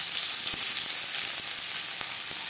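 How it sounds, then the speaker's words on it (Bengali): Chopped onion sizzles steadily in hot oil for a chichinga bhaja, a continuous close hiss with a few faint stirring clicks and no talk. "তেল গরম হয়ে গেছে, দিয়ে দেবো পেঁয়াজ কুচি"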